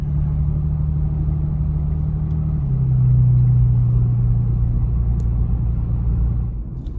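A 2021 Toyota 4Runner driving at night, its low engine rumble and road noise steady and close, swelling slightly midway before easing off at the end.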